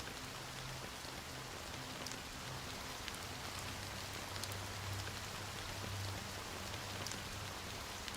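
Steady rain hisses evenly across surfaces in the Honkai Star Rail game world, a soft, constant wash of drops with faint low ambient hum beneath and no voices.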